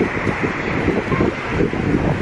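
Strong wind buffets the microphone at a beach in Mallorca, Spain, a loud continuous roar and rumble with gusty swells, with no voices.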